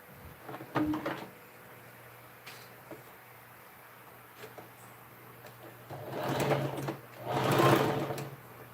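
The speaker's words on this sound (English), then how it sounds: "So first of all, I will go ahead to stitch this place down." A sewing machine stitches fabric for a ruffle headband in two loud, sustained runs near the end, preceded by quieter handling noises and short bursts of motor hum.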